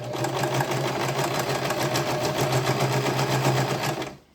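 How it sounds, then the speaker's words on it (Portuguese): Sewing machine stitching bias binding at a fabric edge, a close, steady rapid chatter of the needle that runs continuously and then stops abruptly at the end. "E vou fazer como uma costura normal"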